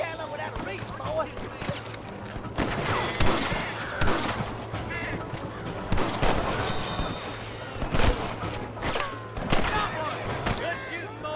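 Shots ring out repeatedly in a Red Dead Redemption gunfight, sharp cracks scattered irregularly over a steady low hum and game ambience, with voices talking in between.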